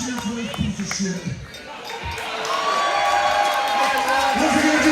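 Wrestling crowd at the MAW Border Battle 3 independent show, cheering and whooping as the noise swells and stays loud in the second half, with shouts and a few sharp thumps earlier.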